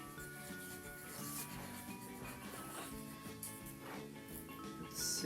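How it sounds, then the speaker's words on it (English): A transfer stick rubbed steadily over a furniture transfer, a continuous scratchy rubbing under faint background music, close and fairly quiet. "I'm just going to use my transfer stick to rub it on."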